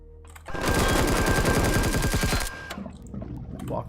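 Turret gunfire in the Empyrion video game, a loud rapid burst of automatic shots lasting about two seconds, followed by quieter scattered game sounds.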